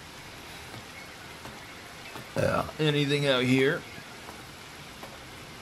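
Rain falling in a horror video game, a faint steady patter and hiss running throughout, with someone speaking briefly midway over it.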